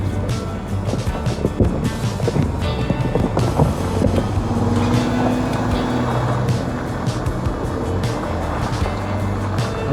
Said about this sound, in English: Just letting the Jeep do its thing in 4 low.